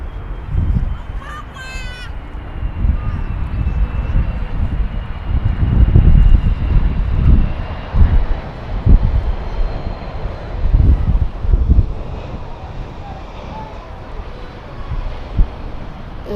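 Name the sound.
Airbus A330 landing at Perth Airport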